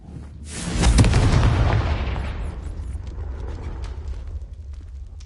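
Confringo blasting spell in Hogwarts Legacy, a loud booming explosion that swells quickly and then rumbles away into a long fading tail with faint mechanical clatter.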